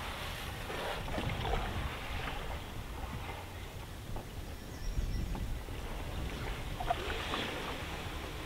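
Steady wind rushes around a forest cabin, with broadband gusts that swell and ease over several seconds, fairly loud and close with no speech over it.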